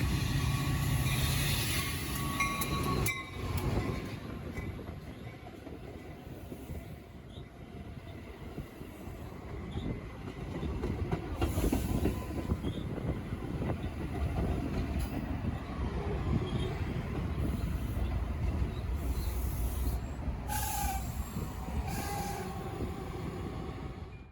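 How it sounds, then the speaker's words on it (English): A Metra commuter train pulls into a Chicago station with a steady, loud rumble of wheels and rail cars that holds for the whole stretch, brief squeals and clanks rising over it. "I got to see 2 metro trains arriving at the station"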